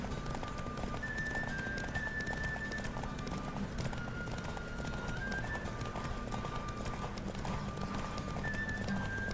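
Steady, rapid clip-clop of galloping horse hooves in The Witcher 3 video game, with a constant rushing background and a faint sustained tone, loud and close.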